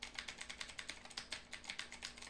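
Computer keyboard typing, a quick steady run of close, crisp key clicks at a brisk even rhythm, quiet and alone with no talk.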